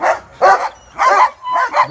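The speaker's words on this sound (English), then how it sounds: "he barked at him" A 14-week-old black and red male puppy barks in a pen, four or five sharp, high, close yips in quick uneven succession with short gaps between them.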